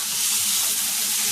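A steak sizzles loudly in a hot frying pan right after being flipped, a dense, continuous crackling hiss that stays close and steady throughout with no voices over it.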